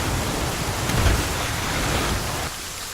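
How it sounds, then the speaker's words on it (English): Steady rain in the survival video game The Flame in the Flood, a dense continuous hiss of falling water with a low rumble underneath and no voices. "it's fucking raining"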